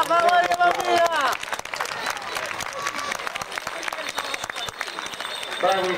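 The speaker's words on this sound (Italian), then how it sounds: "un applauso a Maria Bambina" A crowd applauds at a village festival race event in Sardara, Sardinia, with dense, sustained clapping across the clip and a loud announcer's voice over the start and end.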